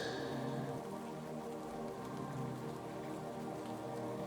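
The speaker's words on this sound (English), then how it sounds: "the rain grows a little steadier now, but it's calm, soothing" Steady rain falls in a forest, a soft continuous patter of drops on leaves and ground, quiet and even throughout with no voices.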